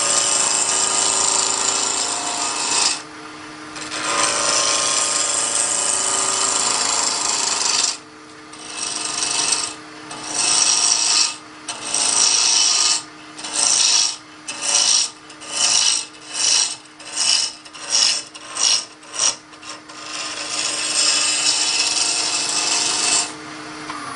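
Wooden coffee scoop being turned on a wood lathe with a gouge, giving a loud continuous rasping cut that breaks into a rapid series of short bursts as the tool is pulled in and out, then steady cutting again.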